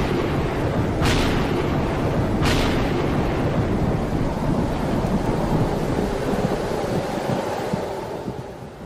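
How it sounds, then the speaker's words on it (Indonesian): A heavy rainstorm pours down over an open field at night: a dense, roaring wash of rain with a couple of sharp crackling bursts near the start, fading slightly at the end. "Pada malam itu pula hujan deras membasahi area pertempuran di Badar."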